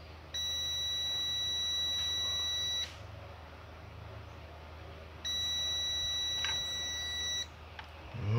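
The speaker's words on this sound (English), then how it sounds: "I'm hearing a beep here." Continuity tester beeping while probing the rectifier of a 2000-watt four-channel car amplifier under repair: two steady, loud electronic tones of about two and a half seconds each, separated by a pause, with no talk.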